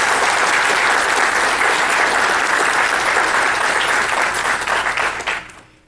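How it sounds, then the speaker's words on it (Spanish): Strong, sustained applause from an audience welcoming presenters at a book launch, thick and loud throughout before cutting off sharply near the end. "Por favor, recibámoslos a todos con un fuerte aplauso."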